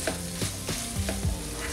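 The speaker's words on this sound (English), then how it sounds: "I'm just going to give that a stir" Garlic, chilies and red peppers sizzle steadily in a pan while being stirred, with repeated scraping strokes about every third of a second over a constant close frying hiss; no voices.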